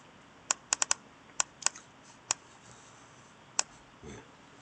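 Scattered, sharp key presses on a computer keyboard, a quick cluster of clicks followed by isolated single taps with pauses in a quiet room, no talk during the presses.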